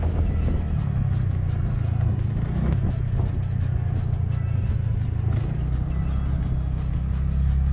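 A TVS NTorq scooter climbing uphill toward Kailashgiri near Bangalore gives a continuous, loud engine drone with a deep rumble and rushing wind noise, steady throughout with no talking.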